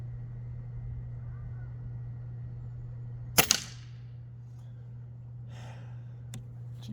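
A gunshot fired at a distant target behind plywood cracks out once sharply with a quick echo, over a steady low hum, followed by quiet rustling.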